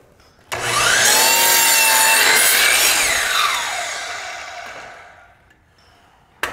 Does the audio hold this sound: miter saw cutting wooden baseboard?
yes